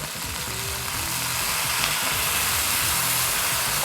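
Beef and vegetables sizzle loudly in a pot as water is poured in, a dense steady hiss and crackle of frying and steam, close and constant, with no talking.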